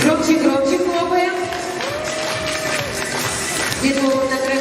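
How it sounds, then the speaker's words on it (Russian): An audience at a children's contest award ceremony claps in a lively hall, the applause continuing under background music and voices. "Громче хлопаем."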